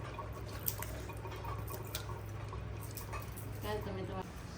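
Water drips and splashes while vegetables are rinsed during home cooking, with small scattered clinks of pots or utensils over a low steady hum and a voice briefly audible near the end.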